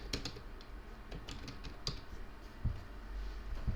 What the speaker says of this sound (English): what I'm going to do is type in editor zoom